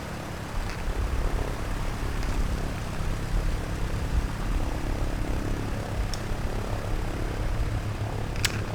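A Cessna 152 two-seater aircraft taxis with a steady, loud propeller and engine drone throughout, close by and with no talk.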